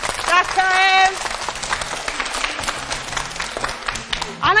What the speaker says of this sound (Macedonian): Силен аплауз за нив